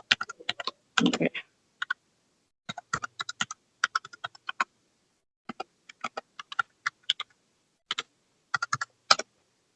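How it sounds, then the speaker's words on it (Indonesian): Typing on a computer keyboard in short, irregular bursts of crisp key clicks separated by brief pauses, close and fairly clear against a quiet background. "Salah ngetik email ya."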